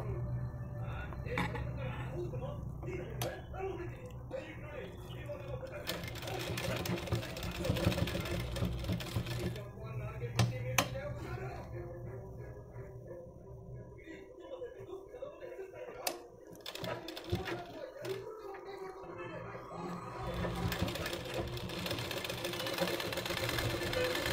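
A sewing machine stitching an alter-neck blouse runs in bursts of rapid mechanical whirring, stopping and restarting, with metallic clinks and a person talking between runs.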